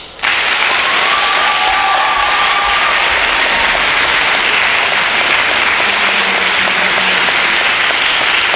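A large audience applauds the final two teams at a team policy debate championship, a dense, loud, sustained wash of clapping that starts abruptly and continues steadily throughout.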